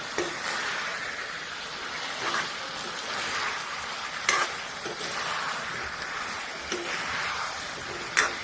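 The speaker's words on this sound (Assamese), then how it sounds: "সেইখিনি আলু দিলোঁ এতিয়া মই এইখিনি ভাজিম" Boiled potatoes fry in a pan with ridge gourd and other vegetables, giving an even crackling sizzle punctuated by periodic scraping stirs of a spatula, close and steady.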